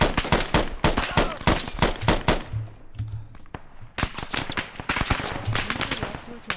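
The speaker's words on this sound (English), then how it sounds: "Get suppressing fire out now." Suppressing fire in the combat game ArmA, dense rapid bursts of gunshots cracking close and loud, briefly thinning out in the middle before a fresh barrage resumes.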